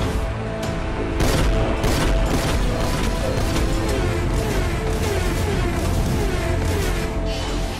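A cartoon robot car fires its laser cannon in a rapid barrage of sharp blasts and booms with mechanical clatter, loud and dense throughout.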